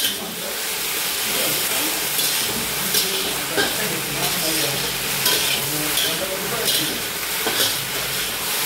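Chilli paneer with cornflour mix frying in a pan, a steady loud sizzle with frequent stirring scrapes throughout, during a farmhouse outing with friends.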